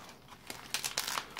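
A light plastic parcel bag from China holding electronic components is torn open by hand, making close crinkling and crackling bursts followed by a run of sharper ripping rustles.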